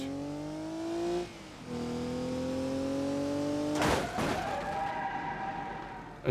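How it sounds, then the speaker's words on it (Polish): In BeamNG.drive, a simulated car's engine revs with rising pitch, briefly drops as it shifts, then hits another car in a sudden loud crunch before the engine settles, with no talk. "na całej naprzód można pojechać w tamten samochód i sobie w niego uderzyć"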